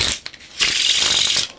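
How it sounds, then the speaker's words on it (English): Playing cards being shuffled, a few quick riffles followed by a longer, bright, rapid riffling burst, close and clear with no talking. "12 levels of card shuffling."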